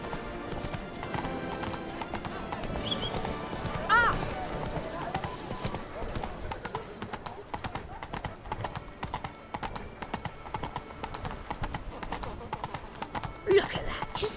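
Rhythmic clip-clop of a galloping horse's hooves in The Witcher 3: Blood and Wine, running steadily throughout with a brief neigh, under game music and someone speaking.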